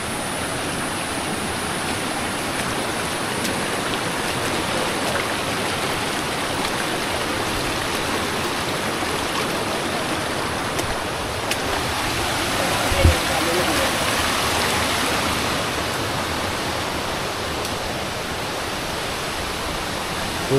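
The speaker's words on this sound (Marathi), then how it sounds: "इथे पण चांगला पाण्याचा फ्लो आहे." Mountain stream on the Naneghat trek flowing as a steady, broad rushing wash that stays even throughout, with one brief knock partway through.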